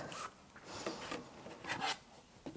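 A rotary cutter or blade trimming the edges of a half square triangle quilt block, heard as a few soft, brief rasping cuts across fabric and mat, close and quiet with no talking.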